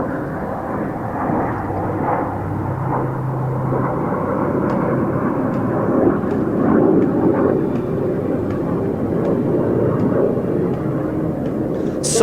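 A military aircraft flying an aerobatic display at an air force show, a loud continuous engine roar that swells and holds steady across the sky.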